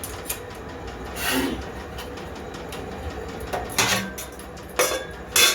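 Metal pot lids clatter down onto pans of reheated curry in a home kitchen: a few short, separate clanks spread across a quiet room, with no voices.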